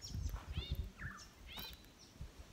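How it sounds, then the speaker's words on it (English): Birds chirp at an outback campsite at sunset, several short bright calls and sweeping whistles scattered across a couple of seconds over low rumbling background noise. "birds chirping."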